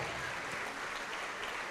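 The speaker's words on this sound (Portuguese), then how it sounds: "vamos aplaudir ao Senhor Jesus" A church congregation applauds in worship, a steady dense wash of many hands clapping that fills the whole stretch without pause.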